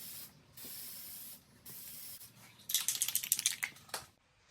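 A light first coat of tint is sprayed onto a car taillight on a Bk2 Genesis in a few quiet, short hissing passes, followed by a cluster of rapid light clicks and rattles near the end.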